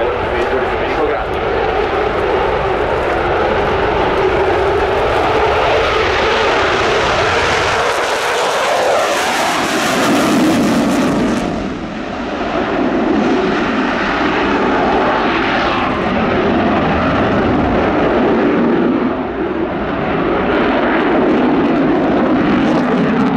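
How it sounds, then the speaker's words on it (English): An Italian Eurofighter Typhoon fighter jet roars through a flying display at RIAT 2019, a loud continuous engine blast that swells and shifts as it passes, with an announcer speaking over it. "Let's give a warm welcome to the Typhoon"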